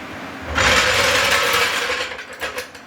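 A wheel is being put onto a 2006 Subaru Forester, with a close burst of mechanical ratcheting and clattering lasting over a second, followed by a few lighter knocks and rattles.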